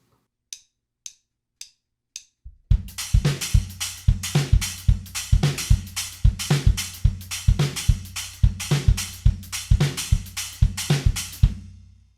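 A few light cymbal taps lead into a quick, steady drum groove of kick, snare and hi-hat strokes played alone at close range.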